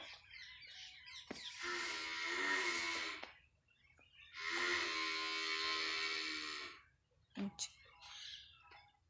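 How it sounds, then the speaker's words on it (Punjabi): Cattle lowing inside a farm shed, two long, drawn-out moos fairly close by, with quiet sounds between them. "ਅੰਦਰ ਡੰਗਰ ਰਿੰਗ ਰਹੇ ਨੇ ਉਹ ਬਾਹਰ ਆਉਣ ਨੂੰ ਕਹਿੰਦੇ ਨੇ"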